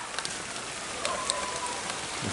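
Rain falls steadily over a tilapia pond site, a continuous close hiss of drops with no voices, holding an even level across the whole stretch.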